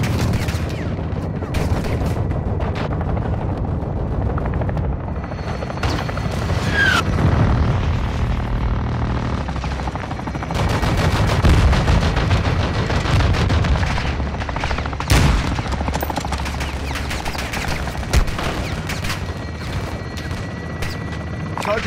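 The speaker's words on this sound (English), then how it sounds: "Taking belt fed fire from beneath the tower." Belt-fed machine gun fire in the Modern Warfare II campaign, dense rapid bursts and heavy shots cracking almost continuously over a loud battlefield rumble.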